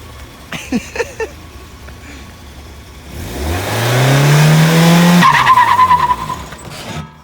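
A BMW E36 engine revs up for a burnout to a loud, steady roar with a rising whine, then drops back to a rough idle with some faint sounds around it; nobody speaks.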